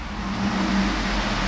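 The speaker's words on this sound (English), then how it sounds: "I'm going to rev the engine right now" A black 2009 Cadillac Escalade SUV's engine swells in a brief steady rev, a close, loud low drone building slightly and holding, with no talk over it.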